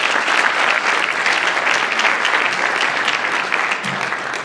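A school audience at a celebration day claps for honored scholars, a full, steady round of applause that tapers slightly toward the end.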